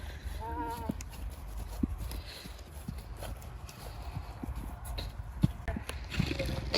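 A horse moves through riding training in trot and canter, its hoof beats sounding as soft, rhythmic clip-clop over steady outdoor background noise, with a brief whinny-like tone early on.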